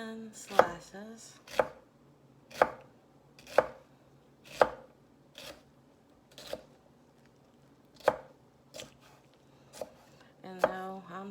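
A knife chops vegetables cut lengthwise into quarters, slicing them thin for a purple chow chow relish. About ten crisp, evenly spaced strikes land on a cutting board at a slow, steady pace, close and clear, with no talk.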